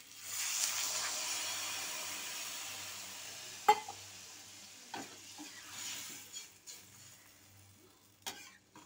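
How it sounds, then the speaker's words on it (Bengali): Water poured into a hot pan for a Bengali egg curry with cumin tempering, giving a steady broad sizzle and hiss that fades over several seconds, with a few sharp clicks and knocks of utensils. "এবার আমি এর মধ্যে জল দিয়ে দেবো।"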